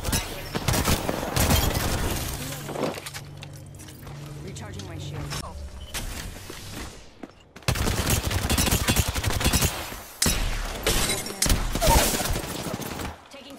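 Rapid bursts of video game gunfire in an Apex Legends-style shooter, loud and close with mechanical clicks and reload sounds, broken by short pauses.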